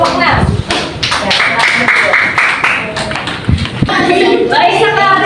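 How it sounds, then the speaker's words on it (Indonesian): A classroom of children claps for a student group, a dense patter of hands that rises and falls over several seconds, with children's voices and chatter mixed in. "Kita beri tepuk tangan untuk kelompok 6"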